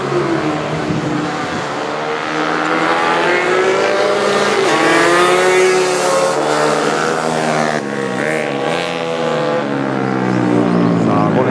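Minibikes race on a track at a Tokushima minibike event with mixed classes, their small engines buzzing and whining loud and continuous, pitch rising and falling as riders shift and accelerate through corners.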